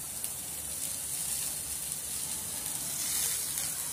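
Onion and tomato frying in a pan for rava uttapam, a continuous hissing sizzle heard close up at a steady level with no talking.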